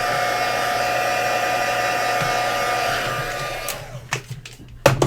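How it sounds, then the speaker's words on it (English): A heat gun blows steadily to dry ink on a watercolored paper craft, a close whooshing drone that shuts off after about four seconds, followed by a few clattering knocks and handling noises. "I don't want to smudge it just in case, so I'm going to hit it with the heat gun"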